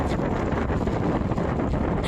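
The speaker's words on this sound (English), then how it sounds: "Dorian pounded the province with torrential rain and howling winds" Hurricane Dorian's strong wind buffets and roars loudly and continuously, with gusty rumbling bursts battering the microphone.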